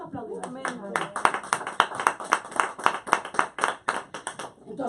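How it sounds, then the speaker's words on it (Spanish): A church congregation claps in a steady, quick rhythm of sharp, evenly spaced beats that carries through the whole stretch, with voices sounding over the clapping. "¿Cuánto aplauden?"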